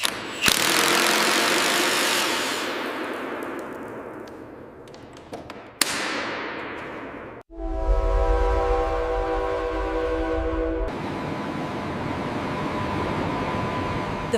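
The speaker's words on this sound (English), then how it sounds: "The first train runs" A train runs through the Channel Tunnel beneath the sea, a loud rushing roar that fades, then a sudden whoosh and a deep rumbling hum with steady tonal whine, with no talking.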